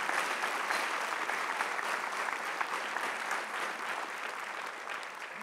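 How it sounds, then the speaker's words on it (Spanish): A church congregation bursts into strong applause during a sermon, a thick sustained roar of many hands clapping that stays loud and then eases slightly toward the end, with no speech over it. "démosle un aplauso más fuerte"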